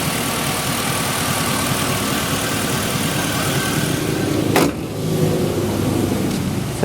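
A 1992 Oldsmobile Custom Cruiser wagon with an LS-series V8 swap runs at a steady, smooth idle close by, with a brief dip and shift in tone partway through before settling back to its even rumble.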